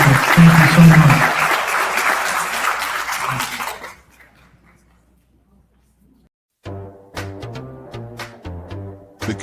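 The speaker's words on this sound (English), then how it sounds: "Let's get a round of applause for our mayoral candidates." Loud, dense audience applause for mayoral candidates at a North Texas community business event, swelling then dying away to near silence before music starts.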